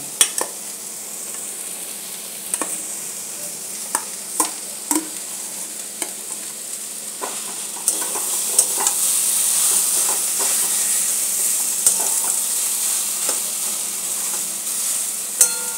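Potatoes with salt, turmeric, chilli powder, coriander powder and garam masala fry in a pan under a steady bright sizzle, while a spatula taps and scrapes the pan at an uneven rhythm throughout.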